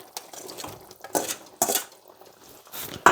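A spoon stirs brown stew chicken with potatoes in a pot, making irregular clinks and scrapes against the metal, with a few sharper knocks and quieter scraping between them.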